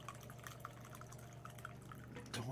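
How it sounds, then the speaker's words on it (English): Coffee pours into a cup at a desk with a keyboard nearby, a soft trickle and drip over a steady low hum, ending with a brief louder splash near the close. "I'm pouring coffee here."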